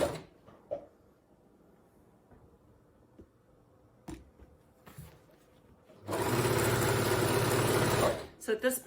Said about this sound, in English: I'm going to continue with the overlocker, and then overlock all the way around.